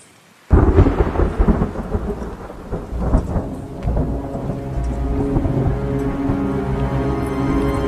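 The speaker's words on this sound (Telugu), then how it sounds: "బయట బాగా ఉరుముతుంది." Thunder erupts outside during a rainstorm, a sudden loud crack that gives way to a long rolling rumble over steady rain, with no voices.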